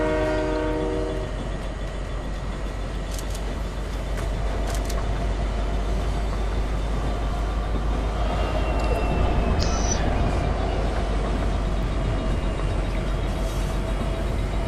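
A train rumbles along steadily in a video game, a dense continuous roar with a horn-like tone at the start and faint tonal whistles partway through, playing alone without talk.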